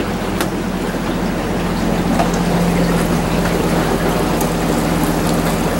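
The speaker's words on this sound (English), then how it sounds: "Engine sounding really good." A boat engine running on the water during a shakedown voyage on a cruising boat, a steady low drone under continuous broadband noise like rain or spray, with no talking.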